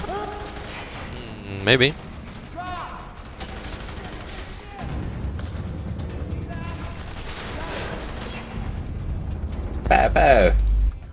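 Submachine gun fire in the shooter F.E.A.R. 3, heard as loud rapid bursts that come in a sharp volley early and again near the end, with continuous battle noise and a voice talking in between.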